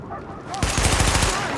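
Rapid automatic weapon fire during a target-practice weapon test in Tom Clancy's The Division, a loud close burst of shots that starts abruptly and continues in quick succession.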